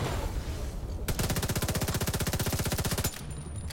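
Automatic gunfire in the video game The Division 2: a sustained rapid burst of evenly spaced shots lasting about two seconds, loud and close, standing out from quieter game ambience.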